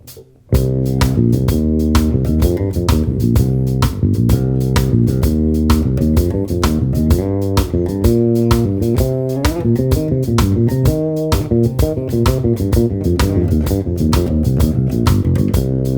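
Bass guitar plays the second instrumental break of a song, a loud, close, continuous run of punchy plucked notes in a driving, syncopated rhythm that extends into a longer, tougher line.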